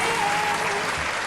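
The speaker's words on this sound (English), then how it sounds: "clap it twice." A crowd at a talk-show taping claps in dense, steady applause that fills the whole moment, loud and close. The two separate claps cannot be picked out.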